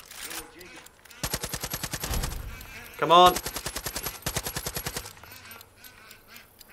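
Bursts of rapid automatic fire from Far Cry 5 aimed at birds, several long volleys with a sharp loud crack near the middle; a bird squawk and a brief spoken line from a man come between the bursts.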